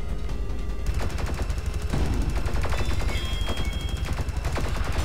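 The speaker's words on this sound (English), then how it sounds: "I like two of these beam weapons kind of thing" A tier 2 beam weapon fires rapidly and continuously in the first-person shooter Sublevel Zero, producing a loud, dense stream of crackling, stuttering bursts that runs throughout without pause.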